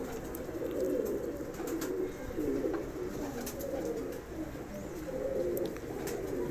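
A female pigeon being readied for championship flying coos in a continuous low, rolling murmur while held and shown, with faint clicks and handling noises scattered throughout.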